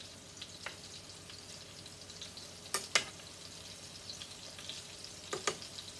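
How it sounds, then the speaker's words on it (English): Cocktail meatballs fry in a pan with a steady, quiet sizzle, broken by a few sharp clinks and scrapes of a spoon stirring them. "Oh, they smell so good frying up."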